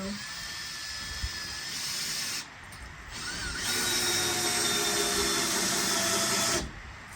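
A power drill whirs as it drives a screw into a wooden garden post, a steady mechanical whine with a brief pause partway through, close and moderately loud with no talk.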